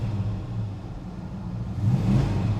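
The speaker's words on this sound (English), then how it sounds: "Step on the gas pedal, revs nice and smooth" A 1970 Dodge Charger 500 engine idling with a low, steady rumble, then swelling into a smooth rev near the end, close and fairly loud with no talk.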